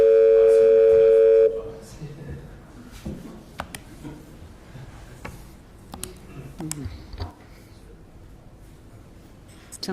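Telephone dial tone heard while calling a mobile from a council standing committee meeting: a loud, steady electronic tone for about a second and a half that cuts off, followed by quiet room noise, clicks and faint shuffling.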